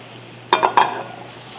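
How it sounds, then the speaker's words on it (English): Chopped onions, carrots and celery hit a hot pan with a brief loud sizzle and a couple of stirring scrapes, then the crackle fades back to a quiet hiss. "I'm going to go ahead and start adding the aromatics. We'll begin with the onions, carrots, and celery."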